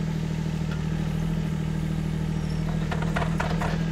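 A Kymron XH20 mini excavator engine idles with a steady, continuous low drone close by, a faint clatter and a few light knocks rising near the end, with no talking.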